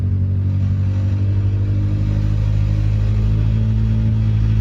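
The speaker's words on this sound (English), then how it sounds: "We're idling wicked high due to no intake air temp" Honda Civic with a P28 engine idling high after an OBD1 conversion, a steady, loud mid-pitched hum with even tone and no revving, close and alone.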